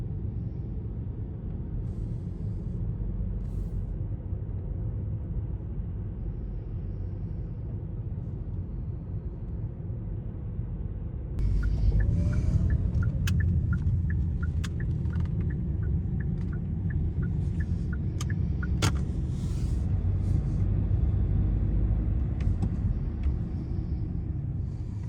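Car cruising along a road through rural Alabama towns, a steady low rumble of engine and tire noise from inside the cabin that grows slightly louder midway, with faint ticking and clicks.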